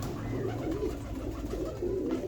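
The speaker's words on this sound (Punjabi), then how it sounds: "ਇਹ ਵਾਈਟ ਗੋਲਡ ਕਬੂਤਰਾਂ 'ਚੋਂ ਨਿਕਲੀ ਹੋਈ ਮਾਦੀ ਆ ਜੀ" A white gold pigeon hen coos in low, steady, close murmurs, her soft continuous rumbling running throughout without any voices over it.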